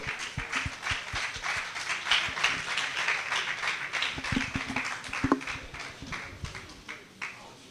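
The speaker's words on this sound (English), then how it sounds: "Please, can we clap up Team Seiko?" Students at a campus meetup at the University of Nigeria, Nsukka, clapping for Team Seiko, a loose round of hand claps from a small crowd, fairly close, with some chatter mixed in.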